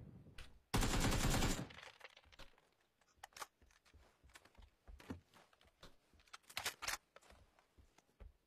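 Shotgun fire in a video game: a dense loud burst of blasts up front, then scattered sharp shots and clattering impacts at irregular intervals, fairly close.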